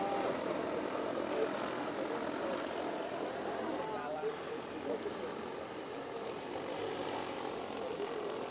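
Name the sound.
agricultural sprayer drone flying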